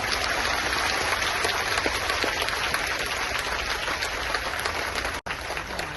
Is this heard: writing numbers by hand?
no